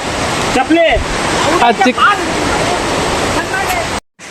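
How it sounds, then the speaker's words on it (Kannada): Palchuram Waterfalls in a forest roar as a loud, constant wash of falling water, with voices talking over it and a brief cut at the end. "ವಾಟರ್ ಫಾಲ್ಸ್ ಆಗೋ ಸೌಂಡ್ ಕೇಳಿಸಿದೆ"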